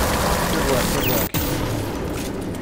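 An electric missile going off in the video game Redfall, a loud, dense crackling blast that fills the clip, cut by a sharp momentary dropout before the roar resumes and fades slightly.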